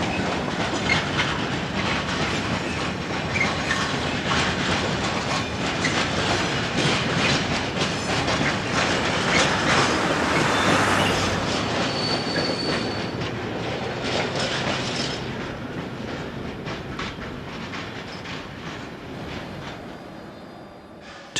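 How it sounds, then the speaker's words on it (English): A short pickup freight train hauled by three Class 63000 diesel locomotives rolls into reception sidings, a steady loud rumble of engines and wagons with rhythmic clickety-clack of wheels that swells near the middle and then eases. "No less than 3 provide the power for this short pickup freight arriving in the reception sidings from the north."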